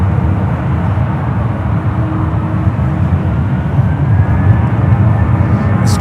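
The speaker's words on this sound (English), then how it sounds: "It's 777 heading to Osaka, Japan, flight 35 at 777 at 200 ER" Boeing 777-200ER jet airliner at San Francisco airport, a loud, steady, deep engine roar that stays constant throughout.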